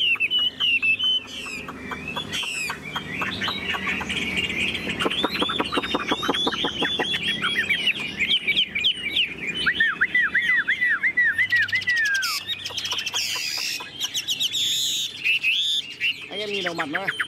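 A caged Chinese hwamei songbird sings loudly and continuously, with rapid rising whistles, repeated trills and varied phrases filling the whole stretch close to the listener.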